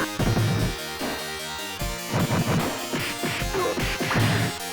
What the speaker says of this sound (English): the CPS-1 arcade board, where, like, it all sounded like this, right?